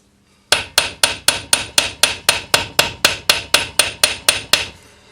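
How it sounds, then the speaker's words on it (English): A small polished-face planishing hammer strikes a ring on a doming punch held in a vise, about sixteen sharp, evenly spaced metallic taps in quick steady rhythm, close and clear with no voices. "use your little planishing hammer with a nice, smooth, polished face"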